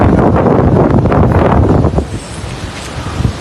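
Strong gusting wind buffets the microphone outdoors, a loud roaring rumble that eases after a couple of seconds into lighter gusts.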